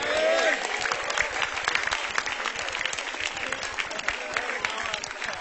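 Audience applause at an Indonesian stand-up comedy show: steady, dense clapping from a sizable crowd fills the whole stretch at even loudness, with some cheering mixed in.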